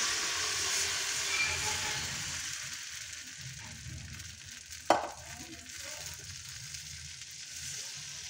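Potatoes frying on a hot, oiled tawa, a steady soft sizzle running throughout with one sharp clack partway through, no voices present.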